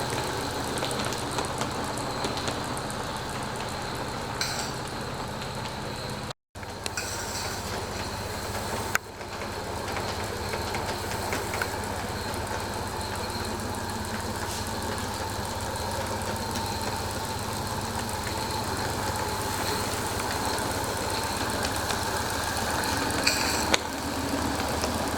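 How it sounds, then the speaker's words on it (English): A geared Shay steam locomotive, with its engine, cranks and gears mounted on the outside, runs at a steady, continuous level with a constant low mechanical drone and a broadband hiss at a moderate distance, with one brief dropout near the middle. "Here's the Shay running."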